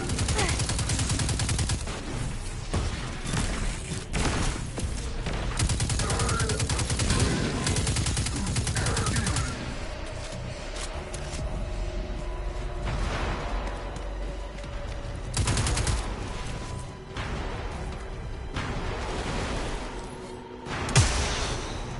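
Rapid gunfire from the video game Destiny 2, with dense bursts of shots early on, then sparser single cracks and echoing reports, one louder bang near the end.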